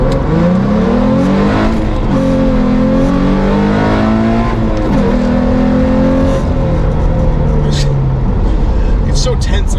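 A 3.7L Ford Mustang with an MT82 manual gearbox pulls hard, its engine note climbing through rising revs with drops at gear shifts, loud and close under the throaty drone.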